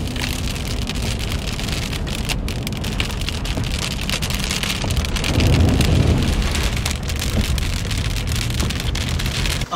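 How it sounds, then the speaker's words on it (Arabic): Heavy rain pours steadily in the Harrat al-Fawwara area northeast of Mecca, a dense, loud, continuous hiss with a low rumble swelling midway, no talking. "ما زالت الأمطار مستمرة حتى الآن في حرة الفوارة"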